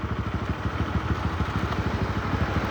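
A motorcycle engine idles close by on a slippery, muddy road, a steady throbbing pulse with a rapid even rhythm, loud and alone without voices.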